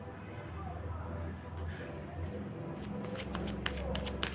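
Tarot cards being shuffled close by, starting as soft sliding and then turning into a quick run of crisp riffling snaps toward the end, with a quiet background hum.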